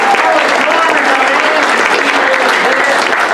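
An improv comedy audience claps steadily and fairly loud for the performers, a dense wash of applause sustained without pause.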